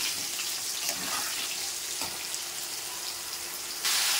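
Potatoes fry in a pan with salt and turmeric, giving a steady, moderate sizzle and crackle with a few small pops, rising louder just before the end.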